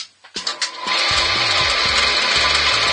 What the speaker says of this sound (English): So I'm going to drill out this hole, and then I can get it onto the mandrel and turn it down.